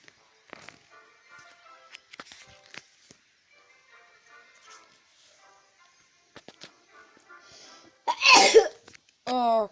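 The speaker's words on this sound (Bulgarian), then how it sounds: "Кихнах." A single sharp, loud sneeze bursts out near the end, following quiet, sparse background sounds and faint voices, and is then followed by a brief high chirping tone from a mobile game.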